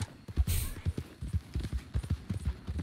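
Horse hooves clip-clopping in the video game Red Dead Redemption 2, a steady rhythmic trot of heavy thuds up close, with a brief whooshing noise early on.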